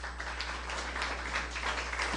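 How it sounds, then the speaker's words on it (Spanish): A church congregation applauding, heard as a steady wash of many hands clapping together at moderate, somewhat distant volume over a low constant hum. "Dale un fuerte aplauso al Señor."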